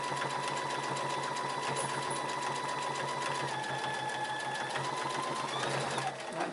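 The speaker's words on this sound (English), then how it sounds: "let the sewing machine do its thing." A sewing machine stitches a rag quilt seam at a slowish steady pace, a continuous close mechanical whir and rapid needle chatter that stops at the end.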